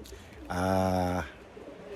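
One drawn-out, throaty coo from racing pigeons in a basket, close and fairly loud, lasting under a second amid quiet surroundings.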